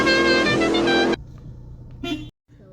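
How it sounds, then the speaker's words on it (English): A Vauxhall Corsa C car horn sounds one loud, steady honk lasting about a second, followed by quiet clicks and a faint short blip. "should be able to hear the horn now"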